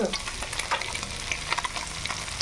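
Fish frying in a pan in a home kitchen, a steady loud sizzle with crackling spits running the whole time, and no voices.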